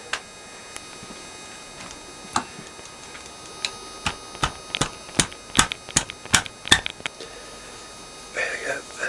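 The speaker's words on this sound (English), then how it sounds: "I think I can get to that one with the speed brace" A speed brace undoes a starter motor bolt on a Kawasaki GTR1000, making a run of small metallic ticks that grow quicker and denser toward the end over a faint background hum.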